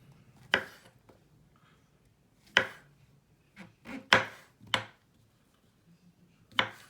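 Mushrooms sliced for raw dog food make sharp knife-on-board chops, about six distinct cuts spaced irregularly, crisp and close in a quiet room.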